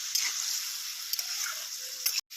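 Fried, crushed lentil dumplings (bori) go into a pan with ginger for a bottle gourd and poppy seed dish, producing a soft continuous sizzle with a few light ticks and taps, ending in a brief cutoff.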